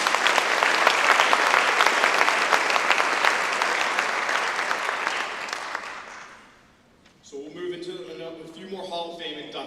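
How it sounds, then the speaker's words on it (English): Awards-ceremony audience applause rings out loud and sustained for several seconds, then fades away as a speaker begins talking over a microphone. "let's have one more round of applause for all of our winter winners"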